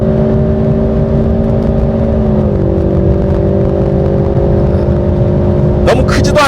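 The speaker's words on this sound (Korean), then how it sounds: "아, 엔진 사운드 딱 좋게 세팅을 해놨네요." A Ford Mustang sports car engine drones steadily up close, shifting pitch once as it changes gear via paddle shift, with a brief voice cutting in near the end.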